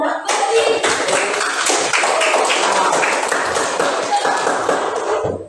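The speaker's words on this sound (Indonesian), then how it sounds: "Kita kasih aplaus kepada kelompok 1 yang sudah menampilkan yang terbaik." A classroom of students clapping for group 1, with brisk, fairly close applause running the whole time and a voice talking over it.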